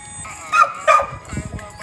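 A Dogo Argentino gives two quick, sharp barks close by, followed by softer yipping sounds, with some voice activity in the background.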